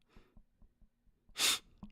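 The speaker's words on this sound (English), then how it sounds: "I'm about to sneeze." A single sharp sneeze bursts out close by after some quiet breathing and small mouth sounds.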